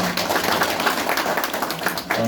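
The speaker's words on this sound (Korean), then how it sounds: "다시 한번 박수 부탁드립니다" Members at a Seoul clan association gathering give a brief round of applause, a dense, steady clatter of many hands that fills the short moment.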